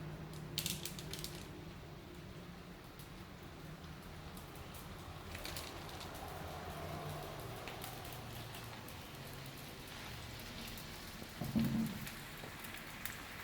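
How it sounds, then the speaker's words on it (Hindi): Four chicken burger patties sizzle in a pan, a steady dense frying crackle running evenly throughout with no talk, a slightly louder spatter near the end. "हमने 4 बर्गर्स बनाने हैं तो हमने 4 पैटीज़ फ्राई कर रहे हैं अभी"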